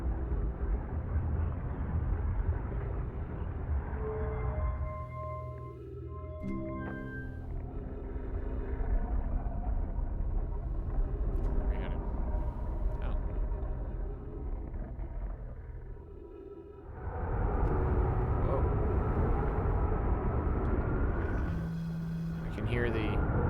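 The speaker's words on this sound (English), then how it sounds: "the storms of Giant's Deep" Storms on the planet Giant's Deep in the video game Outer Wilds, a deep sustained rumbling roar that swells louder partway through, with someone talking over it.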